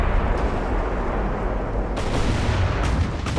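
Naval shell explosion in the naval warfare game Ultimate Admiral Dreadnoughts, a loud rumbling blast with sustained low roar and two sharper bursts layered on top, no talk.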